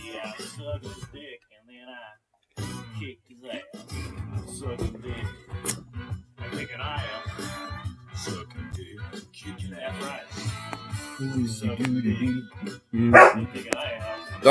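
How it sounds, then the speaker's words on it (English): A husky barks repeatedly in short, loud bursts up close, with whimpering yips between and someone talking over it at times. "What are you barking about?"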